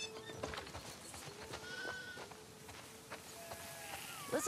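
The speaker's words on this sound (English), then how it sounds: "Listen up, sheep. Your dinner awaits you in the barn, so come on." Sheep bleat on a farm in The Last of Us Part II, several short wavering calls scattered over a soft outdoor ambience, fairly close and moderately quiet.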